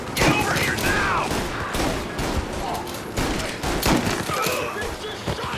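Gunfire in Mafia: Definitive Edition, a countryside shootout around a barn, with dense overlapping shots rattling throughout under shouted voices and other game sounds.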